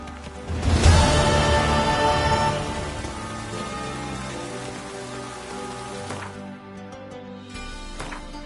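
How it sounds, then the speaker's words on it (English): Steady rain pours down in the game The Witcher 3: Wild Hunt, a dense continuous hiss of drops on surfaces starting loud and then easing slightly, with a few faint thuds near the end and no talking. "The rain will ruin it."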